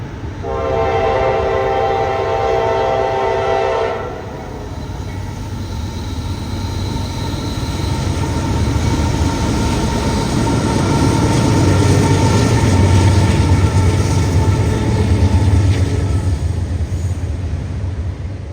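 A Norfolk Southern 25G intermodal freight, a Croxton to Chicago hotshot near Pittsburgh's Homestead Grace Bridge, sounds a loud multi-tone horn for about four seconds, then rolls past with a steady, heavy rumble and wheel noise that swells and holds.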